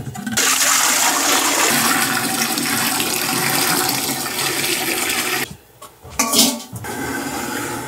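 Running water rinsing equipment during fermentation work, a loud steady gush with clinking of dishes or utensils, briefly cutting out, then resuming with splashing and clatter.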